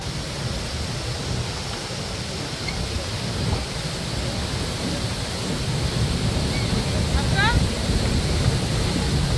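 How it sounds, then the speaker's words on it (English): Boat ride into Ouzoud Falls in Morocco, with the waterfall's broad, steady roar of falling water filling the scene, nearby voices talking over it and a brief bird chirp near the end. "He's gonna take us into the waterfall."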